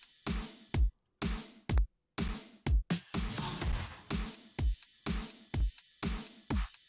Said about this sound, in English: So all the drums together kind of sound like this.